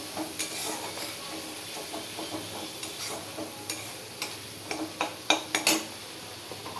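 Food is stirred and sautéed in a pan, with a continuous moderate sizzle under repeated scraping and clinking of a utensil against the pan at an irregular pace, close by and without talk.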